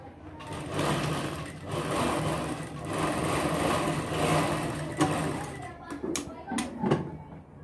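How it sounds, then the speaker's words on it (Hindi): A sewing machine runs in bursts of rapid stitching along the edges of a fabric bow, stopping briefly between runs, with a few clicks and handling sounds near the end. "इस तरह दोनों किनारे में हमें सिलाई लगाना है।"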